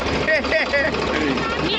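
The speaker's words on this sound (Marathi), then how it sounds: "लागली आमची दिदू ट्रॅक्टर पाय एवढीशी पोरगी ट्रॅक्टर चालवते" A farm tractor with a little girl at the wheel keeps up a continuous rumbling engine noise nearby while people chatter loudly on top of it.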